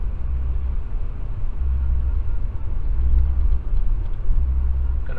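A front-wheel-drive car on Michelin CrossClimate 2 tires drives through deep snow on a plowed street, giving a steady, close low rumble of engine and tire noise with no other sounds.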